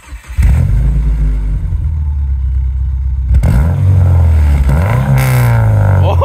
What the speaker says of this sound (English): It's got the same rasp that the Avalon had when it comes down off the revs